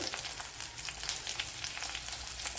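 Garlic cloves, a small piece of ginger and a few chilies fry in a pan with a steady, close crackling sizzle and faint stirring, no speech.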